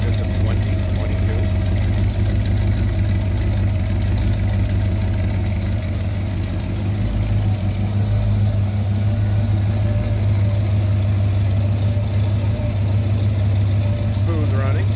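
A 1932 Ford Roadster with a 350 factory crate engine idles with a deep, steady rumble close by, loud and continuous with a faint rhythmic lope throughout.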